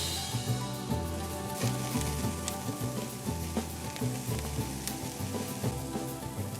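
Serrano chilies and garlic tossed with oil, salt and pepper sizzle steadily on a hot grill, a dense continuous crackle and hiss with small pops throughout, close and fairly loud, no talking.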